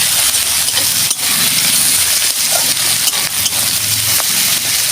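Kudri (ivy gourd) frying in a pan with turmeric, a steady dense sizzle and hiss running continuously with a few soft knocks.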